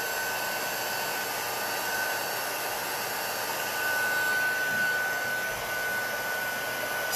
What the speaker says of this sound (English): I got my heat tool a little bit too close and held in one place too long